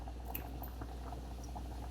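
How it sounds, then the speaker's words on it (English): Water coming to a boil in a cooking pot before rice is added, a soft steady bubbling hiss with faint pops and patter, low and continuous throughout. "So I'm gonna allow this to boil."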